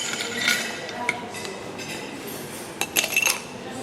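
Ice cubes clinking and clattering into a glass while a passion fruit mojito is prepared, with bright clinks at the start and a louder burst of clatter near the end.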